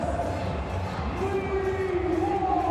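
Packed cricket stadium crowd murmurs and cheers in the background beneath a commentator's voice, with a rising roar partway through.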